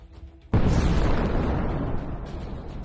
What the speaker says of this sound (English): The hit is enough to destroy the enemy tank.